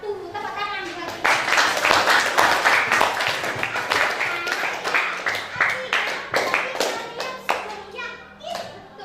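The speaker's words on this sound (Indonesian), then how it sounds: "Tepuk tangan buat kita." Tenth-grade students in a school classroom clap together in a brisk, loud round of applause that builds and continues, with a few young voices calling out over the clapping.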